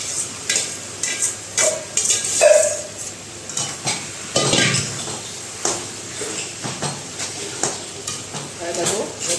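Spoon stirring a sandwich spice mixture of potatoes, peas, cumin, salt, dried fenugreek and coriander in a pan, with repeated scraping and tapping strokes over a light sizzle, close and fairly loud.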